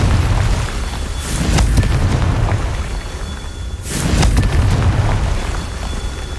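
Two heavy booming blasts from the Confringo fire spell in Hogwarts Legacy, one early and one midway, each a loud burst that fades into rumbling crackle, with no talk between them.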